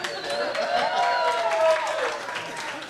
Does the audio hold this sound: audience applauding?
yes